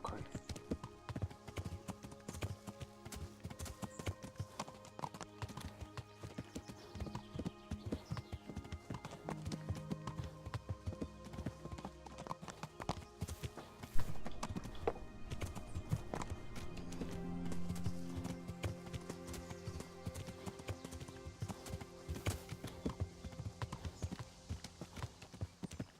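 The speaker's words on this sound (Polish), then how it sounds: "No i wjechał koń." Horse hooves clip-clop steadily through the game Kingdom Come: Deliverance, a continuous trotting rhythm with an occasional whinny, layered under game music and someone talking throughout.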